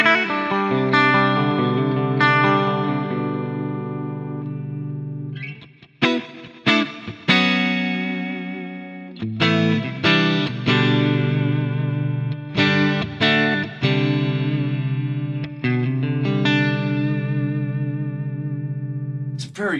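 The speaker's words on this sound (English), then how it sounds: "Oh, quite heavy chorus." Electric guitar played through an Eventide H3000 on a heavy chorus preset into the clean normal channel of an amp, chords and notes swirling with thick modulation and shimmer, ringing out loud with short pauses between phrases.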